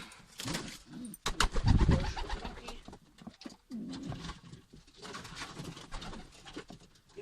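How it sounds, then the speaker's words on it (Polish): Pigeons coo nearby in low, throaty bursts, with rustling and flutter-like noises inside an aviary. "Tu mamy jednego gołębia."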